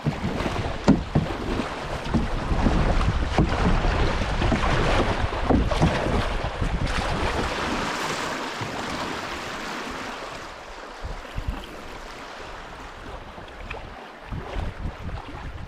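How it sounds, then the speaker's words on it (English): Canoe running a small stretch of river rapids in Michigan, with rushing water and wind buffeting the microphone, loud and steady at first and easing to a softer flow toward the end. "Get ready to run our little baby stretch of rapids here in Michigan."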